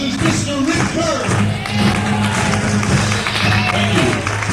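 An audience applauds a drummer from El Paso, Texas, at a band's reunion performance, a steady loud wash of clapping and crowd noise with a sustained musical tone underneath.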